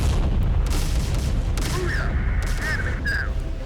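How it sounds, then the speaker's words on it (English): HIMARS rocket artillery fires in Terminator Dark Fate: Defiance, a dense rumble of booms over continuous battle noise, with brief radio-like chatter and high calls on top. "my HIMARS outrange anything they can field, and so I just spam HIMARS"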